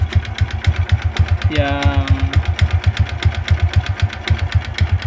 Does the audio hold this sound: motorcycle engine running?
yes